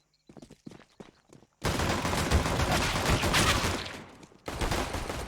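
Dual pistols fire in a Counter-Strike match, starting with a few sharp separate shots, then a dense burst of rapid gunfire and a final volley, all fairly close and loud.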